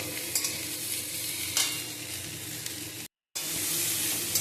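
Long bean curry fries in a pan with a continuous close sizzle and occasional stirring clatter, broken by a short gap before the hiss resumes louder.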